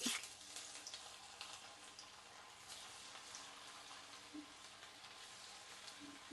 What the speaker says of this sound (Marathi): आणि याला लालसर रंग येईपर्यंत मस्त तळून घ्यायचा आहे